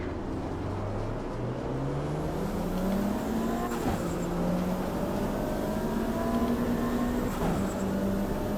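Race car engine in the Automobilista 2 video game revving up through turbo lag, a rising drone climbing in pitch then holding, with a couple of shift dips, no voices.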